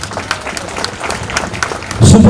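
Audience applause for schoolchildren receiving prizes at a 75th Independence Day celebration at NMPT: a loud burst of clapping breaks out near the end, following a stretch of speech over a room of murmuring people.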